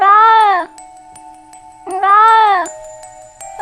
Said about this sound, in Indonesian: terdengar sayup-sayup suara kucing mengeong seperti kedinginan dan